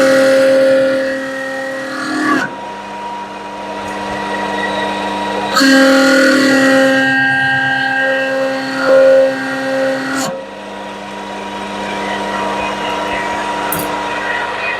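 A milling machine at about 1200 RPM cuts a dimple with an 8mm end mill, a loud tonal chattering whine in several bursts separated by short pauses, close to the microphone.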